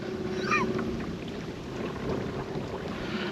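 Wind blows over a lake around a Sportspal canoe in bad weather, a steady low rumbling buffet close to the microphone with a brief faint whistle near the start.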